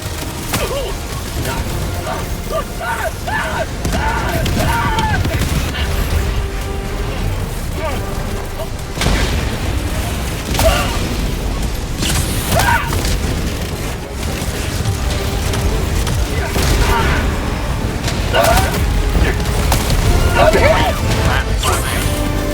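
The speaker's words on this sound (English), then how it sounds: "Firing orbital barrage." Orbital barrage strikes in the video game Helldivers 2 pound the battlefield in a dense, continuous wall of crashing, splintering blasts and rumbling booms, loud throughout, with game voices and commentary talking over the chaos.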